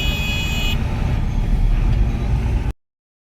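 Busy road traffic in Wagholi rumbles close by, a steady low roar of heavy engines with a brief high hiss at the start, ending abruptly.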